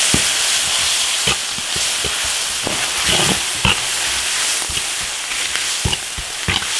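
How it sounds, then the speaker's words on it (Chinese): Pork stir-frying in a wok with chili and soybean paste, a loud steady sizzle broken by repeated scraping knocks of the spatula against the metal. "把那个黄豆浆香味儿给它炒出"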